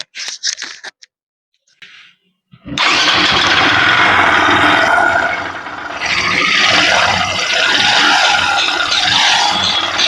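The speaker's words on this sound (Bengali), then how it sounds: "ইঞ্জিন থেকে পুরো ঘরমার ঘরমার করে শব্দ করতেছে" Hero Igniter motorcycle engine cranking and catching after a few quiet clicks, then running loud with a harsh, heavy rattling clatter that holds steady and dips slightly midway, close to the bike.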